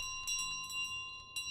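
A bell rings in a video game with clear, sustained metallic tones, struck in a few quick taps over a quiet background.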